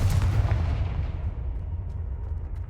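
A Confringo fire spell blasting in Hogwarts Legacy, a heavy booming explosion with deep rumbling low end that trails off over a few seconds, loud and with no talk over it.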